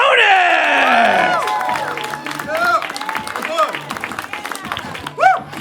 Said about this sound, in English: A big round of applause to the very funny Emma Jonas!